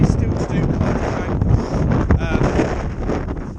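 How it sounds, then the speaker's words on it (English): Steady gusting wind buffets the microphone on a Lake District fell near Calf Crag, a broad roaring rumble that stays loud throughout with brief surges. "It's just really windy"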